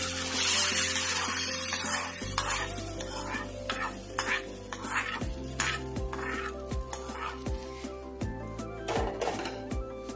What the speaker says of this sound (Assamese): তাৰপিছত এবাৰ লৰাই দিব তৰকাৰীখিনি